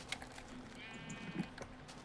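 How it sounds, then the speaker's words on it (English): A sheep in the Minecraft video game gives a short bleat amid faint keyboard clicks and light game sounds, moderately close and fairly quiet. "I'm gonna get that sheep."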